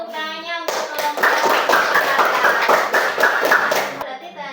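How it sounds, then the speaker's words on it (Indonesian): A classroom of students gives a student group a burst of hand clapping that lasts a few seconds, loud and close. "Kasih tepuk tangannya untuk kelompok"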